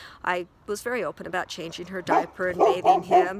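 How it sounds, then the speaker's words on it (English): A pet dog barks in the background of a home, faint and partly buried beneath a steady conversational voice that talks over it throughout. "now you can hear my dog barking in the background"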